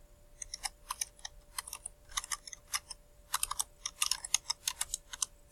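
Close, fairly quiet keystrokes patter in uneven bursts on a computer keyboard, with brief pauses between typed runs and a faint steady hum beneath.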